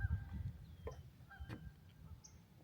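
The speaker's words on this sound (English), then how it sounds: "You're hearing some geese in the background." Geese by a lake, faint honks scattered in the distance over a low, quiet outdoor background.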